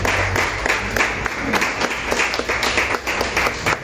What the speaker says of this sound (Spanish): démosle un fuerte aplauso, pero aplausos es que se vayan al cielo.